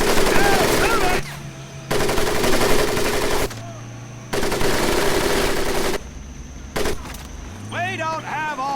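Bursts of machine-gun fire from the Medal of Honor Pacific Assault video game come in loud sustained volleys separated by short lulls, with voices talking through the action.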